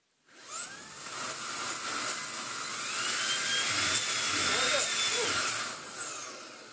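A Shark ICZ300 DuoClean Powerfins vacuum cleaner, running with an E6 blockage error, spins up with a loud, steady high-pitched motor whine that shifts in pitch, then cuts off near the end.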